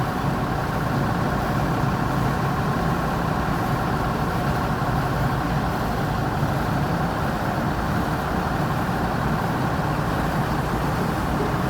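A Skyliner executive bus sits with its diesel engine idling, a steady low rumble that holds level and unbroken without any talk.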